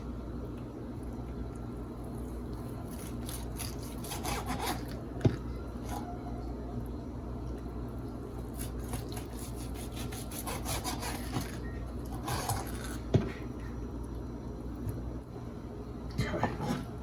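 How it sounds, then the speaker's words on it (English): A dry rub roasted chicken is cut into pieces, giving soft crunching and rubbing cutting sounds in short bursts under a low steady background hum, close by. "I'm just gonna cut one piece at a time."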